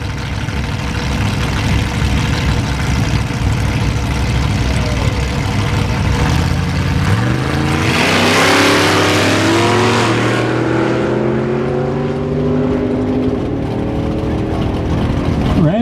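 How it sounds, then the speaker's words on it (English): A loud Ford Mustang engine roars and climbs through the gears as it accelerates hard on a drag racing pass, the sound rising in pitch and staying strong throughout. "Watch Chase make a pass with his silver Mustang a little earlier on in the day"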